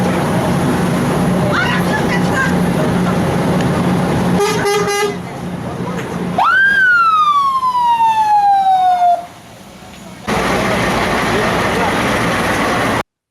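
An ambulance passes with a short burst of pulsing horn tones, then a loud wailing siren sweep that falls in pitch over traffic noise, with people talking around it.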